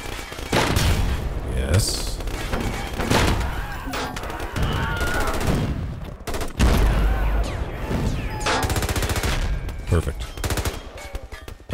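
Rapid bursts of gunfire from the video game Armor Alley rattle loudly and almost without pause, thick and layered, while someone talks over the barrage.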